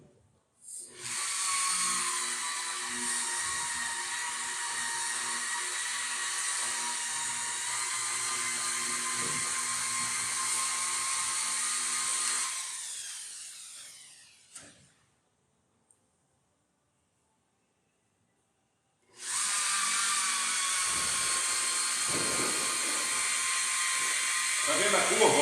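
Automotive rotary polisher buffing car paint with polishing compound, a steady high-pitched whine running loud and close, cutting out for several seconds of near silence, then starting up again.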